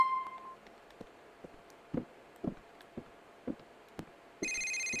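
A mobile phone rings in Grand Theft Auto IV: a repeated electronic ringtone in evenly spaced short bursts, clear and close, followed by a steady tone at the end.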